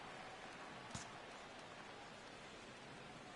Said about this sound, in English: Well, Matt, the rain is really starting to come down